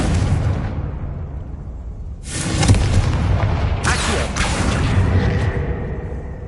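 An explosion spell cast in the Hogwarts Legacy video game, a sudden loud boom that fades, then a second blast a moment later, over a low ambient game bed with soft speech beforehand.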